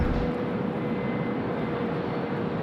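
A Malaysian airliner lands on runway 25 at Sydney Airport in windy conditions, its engines a steady, loud broadband roar that holds evenly throughout with no voices.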